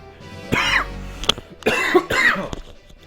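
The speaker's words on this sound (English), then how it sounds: "I'm sorry for coughing in the mic." A person coughs several times, short harsh bursts right into a close microphone during a game session, with no talk over them.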